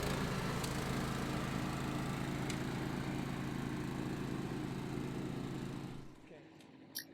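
A Honda HSS1332ATD snowblower runs at a loud steady drone as it clears frozen slush, engine noise constant for several seconds before abruptly dropping away near the end.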